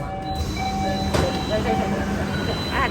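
An LRT train stands at a station platform as its doors open, with a steady low rumble, a sharp clunk partway through and a voice audible over the noise.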